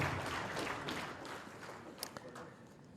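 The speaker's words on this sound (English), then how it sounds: "Give another round of applause to our young person." An audience at an African Union ministerial meeting applauds in a steady, hissing wash of clapping that slowly fades, with a few sharper claps toward the end.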